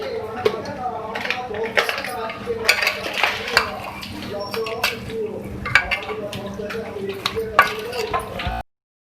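Beef keema is mixed with spices in a bowl, giving irregular clinks and scrapes of utensil against the dish, close and clear, with someone talking over it.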